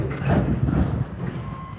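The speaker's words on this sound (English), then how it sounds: "There goes the train." Train passing by a depot, heard as a broad, steady low rumble that holds for a couple of seconds at moderate loudness before easing off.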